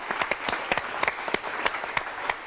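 A small audience claps for an opera soprano, a sparse, uneven patter of distinct nearby hand claps rather than a full roar.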